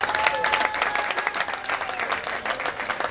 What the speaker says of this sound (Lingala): honorable Eliezer Tamboué, à qui nous donnons l'assistance de bien vouloir applaudir pour lui.